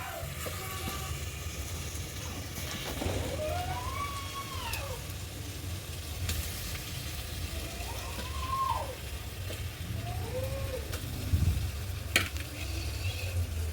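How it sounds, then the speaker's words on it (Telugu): Fish pieces frying in tomato paste in a pot over a wood-fire stove, giving a continuous low sizzle with a few clinks and stirring sounds. A faint voice is heard now and then in the background. "ఇప్పుడు చేప మొక్కలు వేసుకుందాం"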